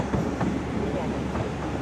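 Steam service on the Ravenglass and Eskdale narrow-gauge railway passing close by, a steady rumbling roll with faint rhythmic clicks of wheels over rail joints throughout, fairly loud.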